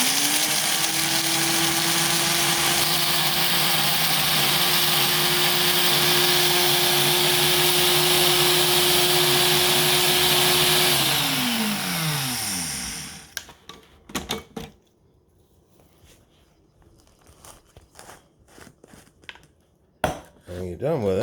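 An electric grinder pulverizing dried smoked chipotle peppers into powder: a loud, steady motor whine with hard rattling for about twelve seconds, then winding down, followed by quieter clicks and knocks of the grinder being handled.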